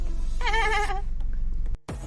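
A single wavering goat bleat rises close by against a quiet outdoor background, followed by a brief clunk.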